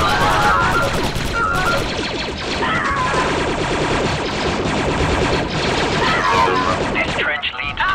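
Droid blaster fire in the Star Wars Republic Commando video game, dense rapid volleys and crashing shots running continuously and loudly throughout, with a voice speaking in between.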